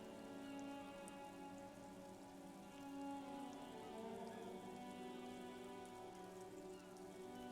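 Steady rain patters on surfaces in a rainy city street in the Disco Elysium video game, a continuous even hiss with faint tonal ambience beneath and no talk.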